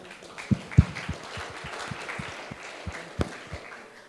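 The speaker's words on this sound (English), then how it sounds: "So just another round of applause for CSAF, please." Sparse applause from a small audience at a talk: scattered individual claps, a few sharper and closer ones standing out over a thin background of clapping, without a full sustained ovation.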